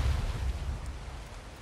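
Rain falling in the game Ark, a dense continuous hiss with a heavy low rumble that is strongest at the start and eases slightly, with no talking.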